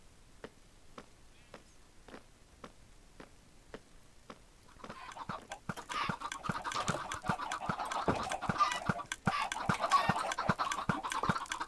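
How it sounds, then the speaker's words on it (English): Minecraft chickens cluck in short repeated bursts alongside rapid regular clicks and scratchy game sounds, growing louder and busier about halfway through with no talk. "We're gonna go back and bother the chickens some more"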